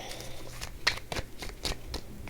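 Rapid riffling and slapping of cards being shuffled, several quick bursts in a row, close and fairly quiet.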